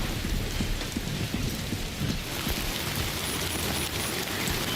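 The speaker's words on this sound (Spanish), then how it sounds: "Pero esta lluvia." Steady heavy rain pours in the video game Death Stranding 2, a dense constant hiss with low thunder rumbling beneath it, loud and unbroken, with no voices.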